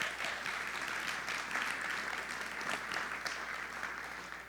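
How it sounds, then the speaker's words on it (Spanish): A church congregation applauds steadily and fairly loudly throughout, a dense wash of clapping hands from the audience with no other sound standing out. "ustedes están aplaudiendo"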